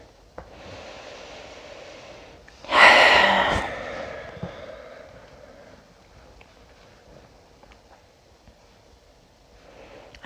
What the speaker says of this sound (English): I'm just starting with some breathing to kind of get nice and centered.